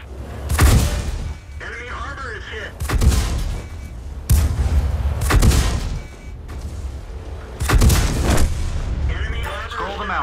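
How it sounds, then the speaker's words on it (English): Tank cannon shots in the World of Tanks video game, four heavy booming blasts spaced a few seconds apart with rumbling decay between them, loud and close, set amid battle noise. "Aim at an enemy vehicle and fire."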